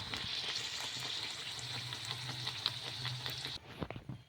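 A puri fries in hot oil, a steady close sizzle and bubbling that continues for a few seconds and then cuts off abruptly, followed by faint clinks.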